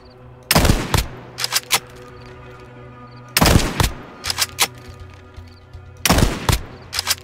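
Three loud, sharp sniper rifle shots in the Roblox game Aftermath, spaced about three seconds apart, each followed by a brief echo and quieter mechanical clicks of the bolt being worked.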